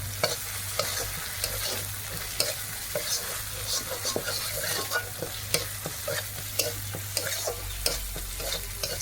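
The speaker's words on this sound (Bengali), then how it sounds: "এবার এটাকে ভালো করে মিশিয়ে নেব।" Spices fry in a pan with a steady sizzle while a utensil stirs them in repeated scraping strokes, close and clear with a low hum underneath and no talking.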